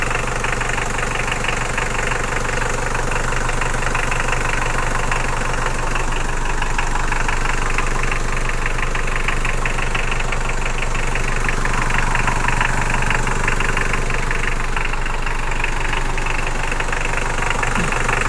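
A Dodge Raider Pajero engine idles steadily and loudly at close range, with a continuous mechanical rumble and faint knocking throughout. No one speaks.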